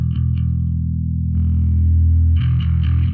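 An electric guitar played through an Alpha Omega distortion pedal gives thick, saturated chords, loud and sustained, with a few picked accents and a change of chord partway through, with no talking.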